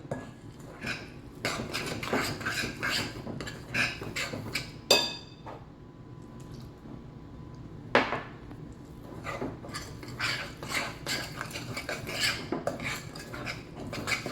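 Blue corn cornbread batter stirred in a bowl, with close, irregular scraping and clinking of a utensil against the bowl, a couple of louder knocks along the way.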